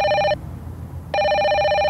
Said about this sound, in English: A phone call at this hour?